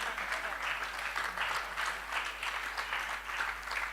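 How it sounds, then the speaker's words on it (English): An audience at a public university lecture claps steadily as the professor walks up to the front, a dense, continuous patter of many hands held at an even level throughout. "In such an event, we keep clapping until he reaches here,"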